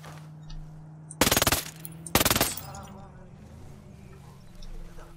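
Gunfire in the video game Ghost Recon Breakpoint: two short, loud automatic bursts about a second apart over a quieter game background, with a voice talking faintly before and after.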